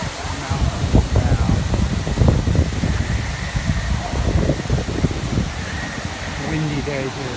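Steady wind gusting and buffeting outdoors in Central Florida at the Pandora theme park area, with people talking throughout over the blustery rush.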